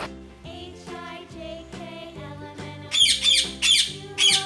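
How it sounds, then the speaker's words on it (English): A parrot squawk sound effect, four sharp, shrill calls in quick succession, loud and close, following a few bright musical notes. "P for parrot. P for parrot."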